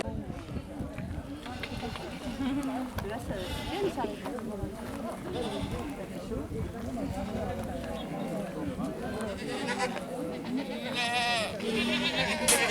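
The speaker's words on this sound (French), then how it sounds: "Est-ce que vous voulez aller voir les chèvres" Goats bleat repeatedly close by on a farm while several people talk over them, with shuffling and footsteps in the background.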